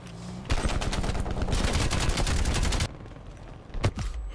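Sustained rapid gunfire from a war machine launcher in Call of Duty Black Ops Cold War, a loud dense burst lasting over two seconds, then a pause and a couple of final blasts.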